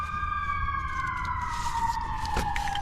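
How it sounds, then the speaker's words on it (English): An emergency vehicle siren wails from somewhere outside a residential garage, a sustained tone slowly falling in pitch over a low rumbling background with no talk. "I probably hear sirens going off too."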